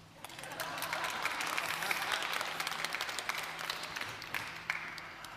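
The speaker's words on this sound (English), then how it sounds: "Applause." An audience at a tourism resilience launch ceremony in Dubai applauds a newly introduced director, a steady bed of many hands clapping with sharper individual claps standing out.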